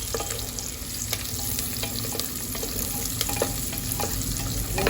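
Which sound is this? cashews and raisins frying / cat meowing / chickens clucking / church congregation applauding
cashews and raisins frying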